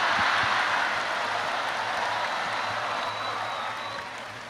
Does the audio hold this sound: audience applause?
yes